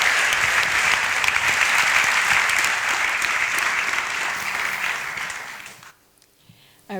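An audience at an evening storytelling gathering applauds to welcome a speaker: sustained, full clapping for nearly six seconds that fades quickly into near silence.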